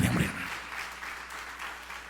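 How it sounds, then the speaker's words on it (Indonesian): Audience applause in a church service, a moderate wash of clapping that is fairly distant and steady throughout, with a brief louder burst at the start. "Tepuk tangan yang meriah."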